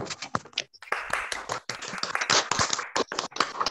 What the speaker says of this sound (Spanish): brindar un aplauso acá a los colegas y las colegas que participaron